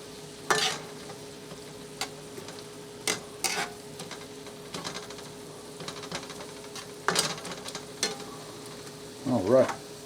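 Golden chanterelle mushrooms cooking with half and half in a pan, a soft steady sizzle with intermittent scraping and stirring noises from a utensil, quiet and close, no voices.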